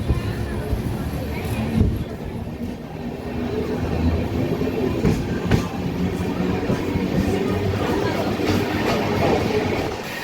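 Pinakini Express with LHB coaches pulls out of Nellore railway station, a steady rumbling roll with faint clacks of wheels over rail joints, close and continuous for ten seconds.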